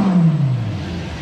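A GT3 sports car's engine winds down from a loud, close rev, its tone sliding steadily lower into a smooth, fading drone.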